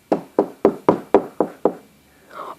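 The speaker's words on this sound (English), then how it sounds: "we heard a knock on the window." Seven sharp knocks on a window, evenly spaced and close, followed by a faint rustle; no voices.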